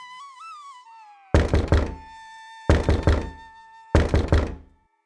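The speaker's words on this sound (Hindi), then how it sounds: "अचानक दरवाजा खटखटाने की आवाज आती है।" Three loud, heavy thumps pound on a door in a cartoon story, each burst a quick cluster of blows spaced about a second apart, following a wavering tonal sound at the start.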